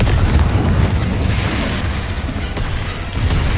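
The Confringo explosive spell goes off in Hogwarts Legacy with a loud, booming blast, followed by a heavy rumbling roar that carries on for several seconds.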